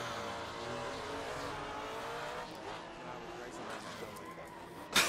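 A car drifting in a VR driving game, with a BMW involved, gives a steady sustained engine roar and tire squeal, loud and continuous, while a voice talks over it. A sharp burst closes the clip.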